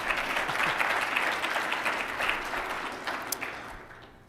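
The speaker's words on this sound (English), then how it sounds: "please give them a round of applause." Audience applause fills a Student Employee of the Year award ceremony: sustained, dense clapping from a sizable crowd that gradually thins and fades toward the end.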